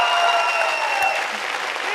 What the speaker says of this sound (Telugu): మన క్యూట్ నీలికి ఒకసారి గట్టిగా చప్పట్లు